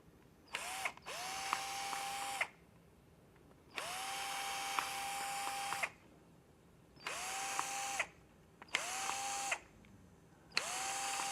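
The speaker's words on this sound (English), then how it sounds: "And now drill out those finger holes." A power drill bores finger holes into a handmade instrument in several separate bursts, each a loud close whine that climbs in pitch and then holds steady before cutting off into silence.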